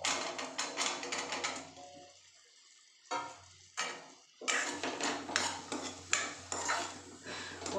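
Pieces of squash tumble into a pot of cooking lentils with bursts of clattering, scraping and stirring against the metal, broken by a couple of brief pauses, close and fairly loud.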